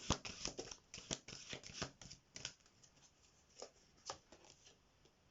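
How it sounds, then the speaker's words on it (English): Repeated crisp riffling bursts of tarot cards being shuffled, a quick flurry followed by a few separate snaps, close up and alone. "Let's shuffle again."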